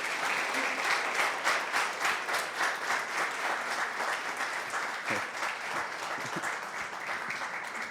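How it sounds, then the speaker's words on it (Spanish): A hall audience at a kidney-disease talk gives Dr. Carlos Daniel Jiménez a warm round of applause, dense rhythmic clapping filling the whole stretch at an even, fairly loud level, easing slightly near the end. "Les pido nuevamente un fuerte aplauso para el doctor Carlos Daniel Jiménez."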